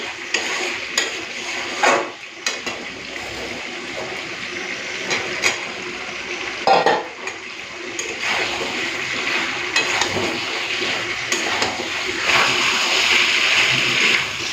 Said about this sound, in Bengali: এই সময় আমি ভেজে আলুটাও দিয়ে দেবো